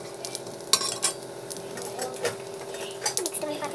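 Mustard seeds and cumin dropped into hot oil, crackling and popping with metal spoon clinks against the pan, some sharp bursts over a low hum, no speech.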